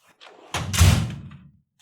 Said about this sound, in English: no matter how hard I slam this drawer